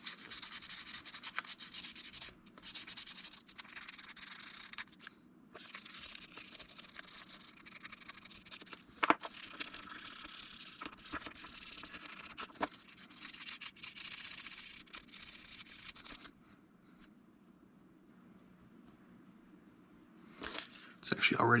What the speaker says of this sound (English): just with going back and forth with some 1000 grit a few times